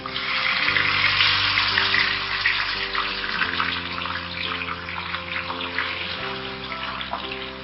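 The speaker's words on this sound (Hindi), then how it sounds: "अब हम इसमें मैरिनेट की हुई चिकन को ऐड कर देंगे।" Marinated chicken pieces dropped into hot oil in a pan on a medium-low flame, giving a loud, steady hiss that fills the whole stretch, with a sharp bump in intensity as more chicken goes in partway through.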